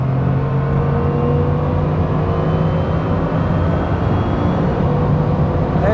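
A Bugatti Chiron Super Sport driving at about 210 mph, its engine and wind roar loud and steady throughout, a dense continuous rush with no talking.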